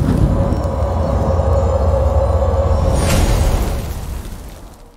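Bomb explosion in the battle royale game PUBG Mobile, a loud sustained low rumble with a sharp burst near the end, fading out over the final second.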